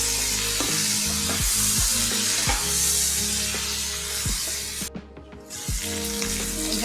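Mutton liver, potato and onion fry with salt and turmeric in a pan, a continuous close sizzle broken by repeated scraping stirs at a steady rhythm, with no talk.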